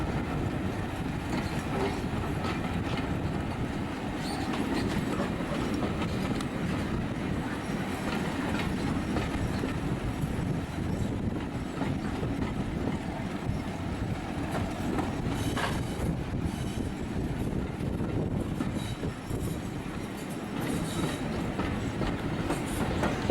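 Steam train running along the Gloucestershire Warwickshire heritage railway line, a steady continuous rumble of carriages and wheels with faint rail clicks, close and sustained throughout without pause.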